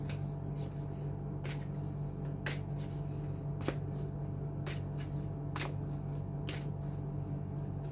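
Tarot cards being reshuffled by hand, giving a steady papery riffle over a low hum, with sharper card snaps every second or so; one brief spoken word at the start.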